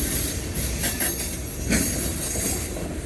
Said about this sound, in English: As you can see, this is a very long train.